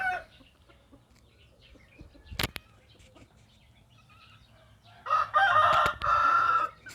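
A backyard rooster crows loudly in two long, strained bursts near the end, with only faint scattered farmyard sounds beforehand, as chickens are let out of their pen to roam in the morning.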